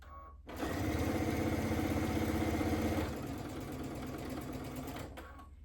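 A sewing machine runs steadily while stitching quilt pieces at a quarter-inch seam, a loud close motor whir with a fast even needle rhythm, easing slightly in speed midway before stopping.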